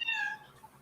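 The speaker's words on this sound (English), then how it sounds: "That was someone's cat." A single short meow from a house cat, fairly clear and brief with a falling pitch, over a quiet room background.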